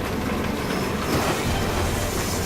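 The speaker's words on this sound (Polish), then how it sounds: "Zwiedzamy sobie metro właśnie w tej grze." Metro train in the video game Crysis 3 rumbles and clatters continuously throughout, a dense, steady rail roar with no talk over it.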